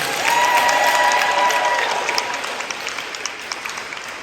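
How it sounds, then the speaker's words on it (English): A banquet audience at a school sports awards night gives a big round of applause for a coach, loud sustained clapping that gradually thins out into scattered claps. "let's give them one more big round of applause for our coach."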